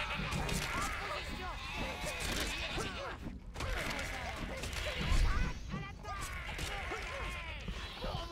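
Sheep bleating in the video game Overlord, near a well in a kitchen area, several bleats mixed with game effects while someone talks over them.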